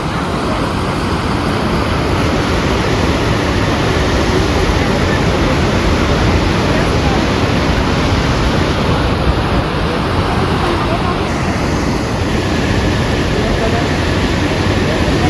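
The Saraswati river rushes steadily near Vasudhara waterfall in the high Himalayan valley, a loud, unbroken roar of water filling the whole span without pause.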